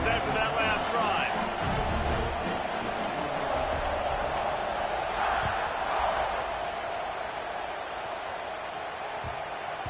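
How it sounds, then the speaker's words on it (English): Football stadium crowd after a scoring drive, a broad sustained roar of cheering at a distance, with a commentator's voice talking over it. "this crowd is feeling themselves after that last drive"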